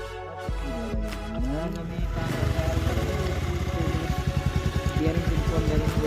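A motorcycle engine runs while the bike is being ridden, its low throbbing exhaust loud and close, with a rapid regular pulsing that steadies and strengthens partway through, and faint talk underneath.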